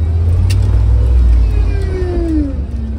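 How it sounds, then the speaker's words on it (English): The power steering pump of a Jeep Cherokee fitted with hydro-boost brakes whines faintly with a thin rising tone over a heavy low engine rumble, heard close for a few seconds. "you can hear my whiny power steering pump"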